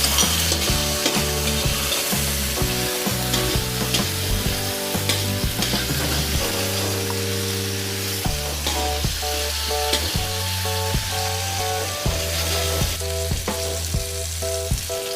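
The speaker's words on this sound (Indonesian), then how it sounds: "Selanjutnya kita tumis bawang putih, bawang merah," Garlic and shallots stir-frying in a pan for a Javanese sweet soy chicken dish, a steady loud sizzle with scraping stirs, under rhythmic background music throughout.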